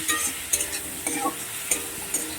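Ginger, garlic, onion, potato and tomato stir-fried together in a pan, with spoon scrapes and stirring clatter over a steady low sizzle, occasional sharper knocks recurring every half second or so, close by and no talking.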